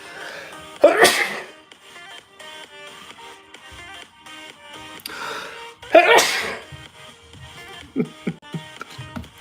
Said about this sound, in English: I'm going to sneeze real quick.